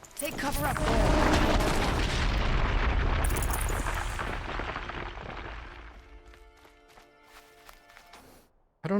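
Explosions in the video game Horizon Zero Dawn: a loud, rumbling blast that rolls and fades over several seconds, followed by quieter clicking game sounds and a sudden sharp burst at the very end.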